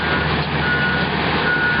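A truck beside a 100,000 lb tractor gives faint steady reversing beeps, barely standing out from continuous loud engine and broadband noise at an equipment site.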